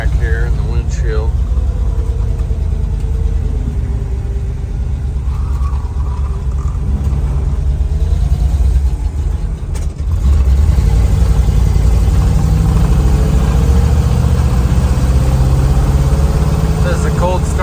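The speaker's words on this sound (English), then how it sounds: "This is a cold start. You let it warm up a little bit." A 1973 International Scout engine runs at a steady cold-start idle, a loud low rumble throughout with a slight shift in tone near the middle, while someone talks over it.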